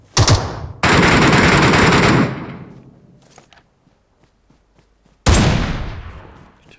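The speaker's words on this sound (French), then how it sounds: "Je tire sur les bots." Automatic gunfire from shooting at bots in the mobile battle royale game PUBG Mobile, Metro Royale mode: a short burst, then a sustained loud rapid volley of about a second and a half, a few faint pops, and another loud burst near the end.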